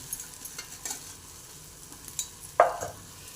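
A spoon scrapes and taps in a pan as poha with onions, coriander and turmeric is stirred together, several light knocks and a faint sizzle under the clatter, close by and without speech.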